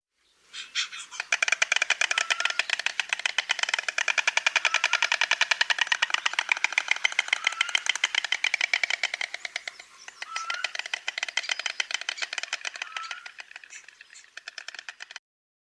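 Rapid wooden clattering, loud and sustained, like storks bill-rattling, with a brief pause before the clacking resumes.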